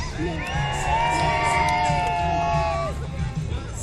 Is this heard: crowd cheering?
yes